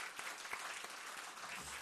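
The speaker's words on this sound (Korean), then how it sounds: "우리 하나님께 영광의 박수 한번 하면 또 격려 한번 합시다." Congregation applause during a Sunday church service, a dense, continuous patter of many hands clapping at moderate distance with no speech over it.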